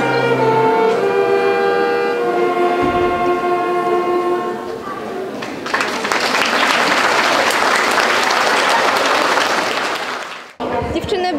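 An audience applauds loudly at a majorettes' show in a municipal culture centre in Leszno, the clapping swelling into a dense roar after a held musical chord fades, then cutting off abruptly near the end.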